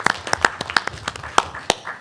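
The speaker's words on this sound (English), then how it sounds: "Yeah, let's applaud that." A brief burst of scattered hand clapping at a school board meeting, uneven and fairly sparse, as from a small group applauding.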